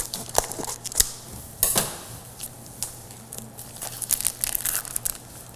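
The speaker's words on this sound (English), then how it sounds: "And again, we just cut our bag open." Scissors or a blade cut open a plastic bag of portioned pulled pork, producing close crinkling and crackling plastic with a few sharper snips and tears, no voice.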